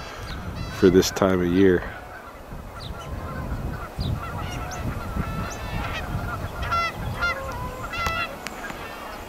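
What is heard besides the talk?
geese honking at a pond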